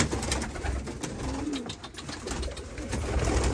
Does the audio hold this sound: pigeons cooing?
yes